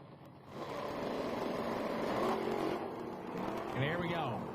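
Drag racing cars in the Hot Rod Eliminator class launch at an IHRA Pro Am meet, their engines a sustained, somewhat distant roar that swells and holds, with a voice briefly over it near the end.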